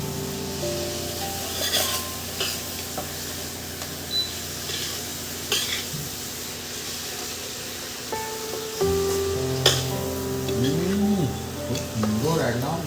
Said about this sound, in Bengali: খুব সুন্দর একদম কষানো হচ্ছে বন্ধুরা